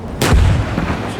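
A tank cannon fires once in the GHPC combat game, a loud, close, booming blast with a rumbling tail, followed by a fainter secondary thud.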